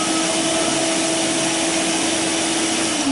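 A new Makita VC867D cordless dust extractor runs on its highest power setting, producing a steady, close whirring hum with a constant tone throughout and no talking over it.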